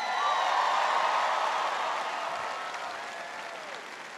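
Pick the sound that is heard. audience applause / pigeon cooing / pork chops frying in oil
audience applause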